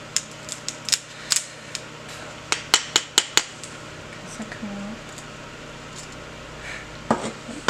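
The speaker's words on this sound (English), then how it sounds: "I'm just tapping the sides to just remove the excess amount" Sharp, irregular taps strike the sides of a bath bomb mold, a quick cluster of clicks and knocks close by, followed by softer handling sounds.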